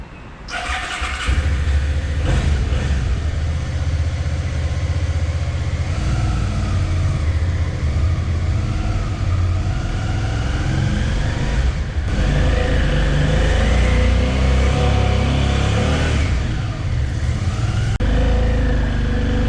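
A motorbike on a round-the-world trip setting out from Sao Paulo, its engine catching after a brief crank and then running loud and steady as it rides off, with the revs rising and falling, close up and without speech.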